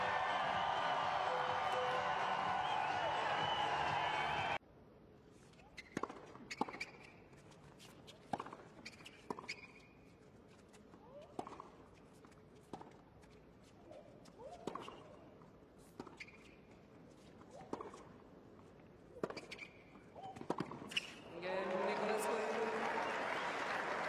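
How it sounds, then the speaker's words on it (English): A tennis crowd at Indian Wells in 2015 applauds and cheers a returning player, loud sustained clapping at the start and end with scattered claps and thuds in quieter stretches between. "listen to that welcoming by the crowd"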